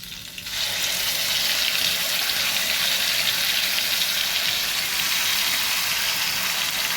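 Water runs in a kitchen while something is washed during cooking of a small-prawn malai curry, a steady, close rushing hiss that starts abruptly after a brief quieter moment and continues without pause.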